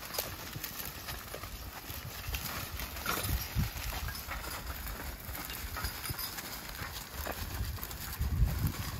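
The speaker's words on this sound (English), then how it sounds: "Yeah, it is a lot easier with three horses." Three draft horses in a hitch pulling a plow, their hooves clopping steadily and continuously over dirt, with faint harness and field noise and no talking.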